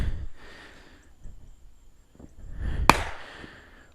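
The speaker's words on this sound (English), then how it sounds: "pretty sure people in the city aren't supposed to set off fireworks" A single sharp firework bang cracks out nearby amid quiet rustling and breathing, followed by a brief fading rumble.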